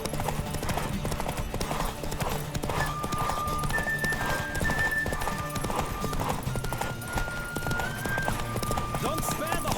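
Hooves pound steadily through a horse race in The Witcher 3, the rapid galloping loud and continuous, mixed with a sustained musical tone and an occasional whinny.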